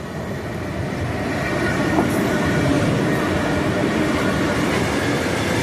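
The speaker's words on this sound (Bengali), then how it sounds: "এই দেখুন ট্রেনটা সরে যায়" An electric train rolls steadily along the tracks with a continuous broadband rumble and faint wheel clatter, close and loud throughout without any speech.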